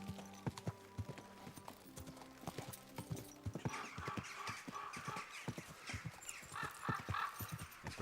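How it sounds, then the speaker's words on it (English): Horse hooves clip-clopping at a steady pace in the video game Kingdom Come: Deliverance 2, with a brief whinny and rhythmic hoofbeats continuing throughout, slowing slightly near the end. "Easy. Good horse."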